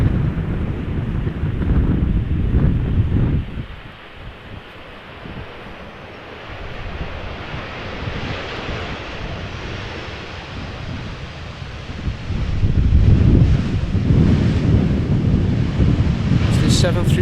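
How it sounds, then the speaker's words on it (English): Strong gusting wind of about 20 knots roars across an open airfield at Amsterdam Schiphol Airport, a steady broadband rush that dips briefly then swells louder near the end, with faint aircraft noise blended underneath. "the wind has increased even further to 20 knots now."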